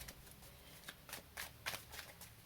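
A deck of tarot cards being shuffled close by, with a run of soft riffling bursts and papery flicks that grows a little louder toward the end, heard alone with no talk.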